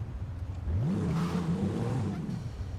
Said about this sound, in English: This might be a 3-liter V6.